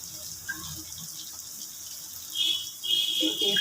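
Water poured into a pan of spicy shankor fish curry with potatoes and melted spices, a soft gushing splash that starts faintly and grows clearer in the last second or so, with a brief pause between pours.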